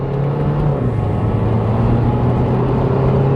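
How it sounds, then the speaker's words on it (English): A BMW 123d two-litre turbo diesel on 19-inch wheels pulls hard under acceleration, a steady, loud engine drone with a rising tone and turbo whir, close and continuous with tyre roar beneath. "some good turbo noises at least"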